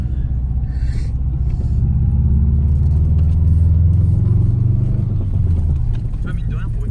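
An old car with more than 200,000 km on it drives along, giving a steady, loud low rumble from inside the cabin, with voices talking over it.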